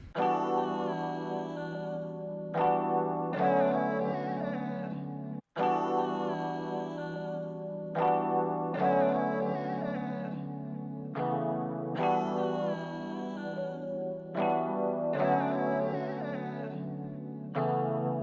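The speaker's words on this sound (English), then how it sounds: "I am kind of looking for that like ad-libby underwater style sound, so this is actually not bad at all" A vocal ad-lib sample drenched in chorus, echo and distortion effects for an underwater feel, playing as looping melodic phrases with short pauses and one abrupt cut, steady and alone with no speech.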